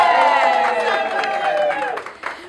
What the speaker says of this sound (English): And we'll just go back and give applause to this young lady,